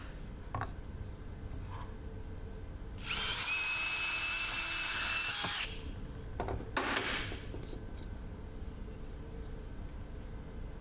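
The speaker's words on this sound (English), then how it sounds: "we're going to drill a hole in here, drive a screw through it into the base" A power drill driving a screw into pallet wood whines for about three seconds at high speed, followed by a short second burst, amid quiet workshop clatter.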